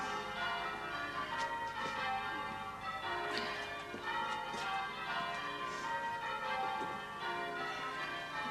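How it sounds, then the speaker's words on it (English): Church bells ring continuously in overlapping peals, steady and fairly loud with a reverberant, sustained wash of tones and no talk. "They got to stop ringing them bells."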